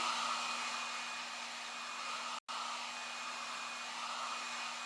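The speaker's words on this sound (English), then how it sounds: "get my blow dryer." Steady roar of a blow dryer running nearby, cutting out for a split second midway before resuming at the same constant level.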